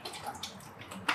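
Bottled Evian water is poured into a kettle for boiling while preparing home-brewed coffee: a brief, close splashing rush that swells near the end.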